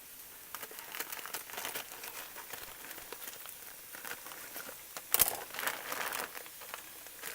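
A plastic bag of shredded cabbage coleslaw mix crinkles and rustles up close as it is emptied into a bowl, in a run of soft crackles with one sharper burst near the end.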